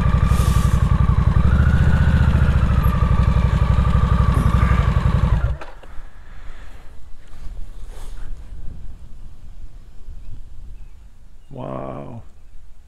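A Harley-Davidson motorcycle engine idles loudly with a steady low rumble for several seconds, then cuts off, leaving quiet outdoor wind by a river and a brief voice near the end.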